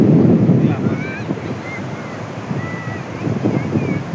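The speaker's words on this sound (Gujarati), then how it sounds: "દરિયામાં પાણી આવી ગયું છે" Surf rolls and washes steadily close by at high tide, with wind buffeting the microphone throughout.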